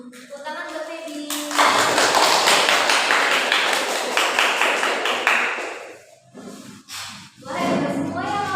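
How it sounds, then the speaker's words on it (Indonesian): A classroom of students claps together in a loud, sustained burst of applause for a classmate, fading out after several seconds before voices and more talk pick up. "Tepuk tangan buat Feby."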